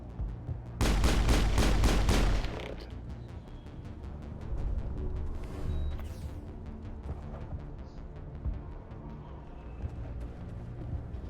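Squadmates firing guns in the video game Mass Effect 2, a loud rapid burst of automatic fire up front, then quieter scattered shots and game sounds.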